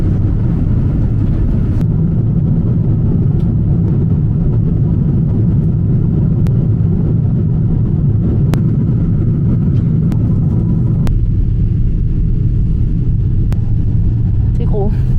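A passenger airliner landing and braking on the runway on arrival in Paris, a loud, steady low engine and rolling rumble throughout with faint clicks, heard from inside the cabin as people talk over it.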